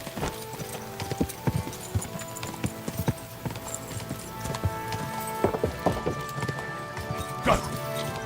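Hooves clip-clop in a quick, uneven rhythm, fairly close, with scattered thuds and clatter mixed in, in the video game Kingdom Come: Deliverance II.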